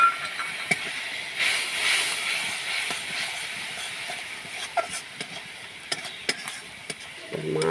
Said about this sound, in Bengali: এবার আমি ধোয়া জলটা একটু ঢেলে দিলাম